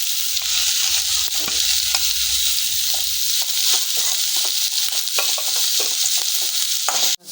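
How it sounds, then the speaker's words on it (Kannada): Green chilies, onion and carrot sizzle steadily in a pan for instant masala paddu, with continuous loud frying and repeated scraping stirs throughout, no talk. "1-2 ಹಸಿಮೆಣಸಿನಕಾಯಿ, ಒಂದು ಸ್ವಲ್ಪ ಈರುಳ್ಳಿ, ಫ್ರೈ ಮಾಡ್ಕೊಬೇಕು."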